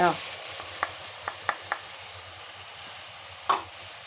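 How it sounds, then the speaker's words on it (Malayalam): Ground tomato paste goes into frying masala for a mackerel curry, a steady close sizzle with a few sharp spatula taps and a louder clatter near the end. "തക്കാളി അരച്ച് വെച്ചത് ചേർത്ത് കൊടുക്കാം"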